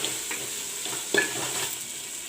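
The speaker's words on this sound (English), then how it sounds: "Now I'll put in the soya bean." Soya beans tipped into a pan of frying tomatoes, giving a steady sizzle with stirring scrapes and a brief louder clatter as they land, close and alone.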